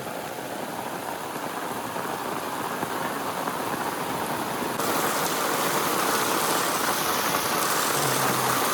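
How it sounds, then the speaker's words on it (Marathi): Heavy rain pours down steadily in a dense, continuous hiss that grows a little louder partway through. "सुबह सुबह बारिश देखो कितनी गिर रही है."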